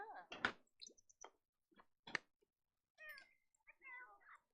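A pet cat in the Sims 4 video game lets out a few short, chirpy meows, mixed with soft squishy game effects and brief pauses between bursts.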